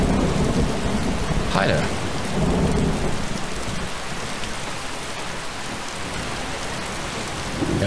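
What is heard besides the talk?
rain and thunder in a video game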